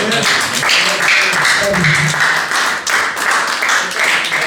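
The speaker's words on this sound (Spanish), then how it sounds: "Un aplauso" An audience at a 46th-anniversary gathering claps steadily, a dense, continuous burst of applause that stays close and loud for several seconds, with a few voices mixed in.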